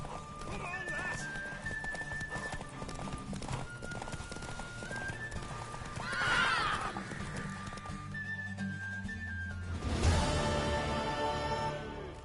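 A mare neighs loudly and her hooves clip-clop at a steady pace, close by, with people talking and music playing around the horse sounds.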